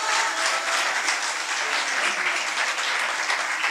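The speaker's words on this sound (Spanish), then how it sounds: "un aplauso para Gremlin también" Audience applause at a live comedy show in a cultural centre, a dense, steady wash of clapping that holds at full strength throughout, with no voices standing out.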